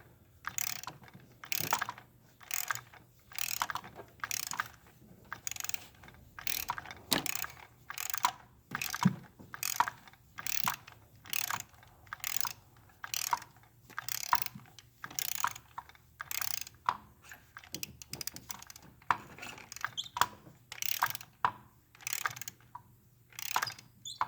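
A torque wrench ratchets steadily on a spark plug in a Land Rover LR2 / Freelander 2 engine, with rapid close clicking strokes repeating in even bursts with short pauses between them.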